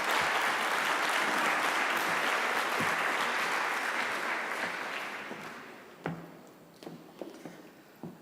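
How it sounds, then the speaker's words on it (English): Conference audience gives a speaker a sustained round of applause in a large hall, dense and steady for several seconds before thinning out into scattered claps as it dies away. "Let's give him a round of applause."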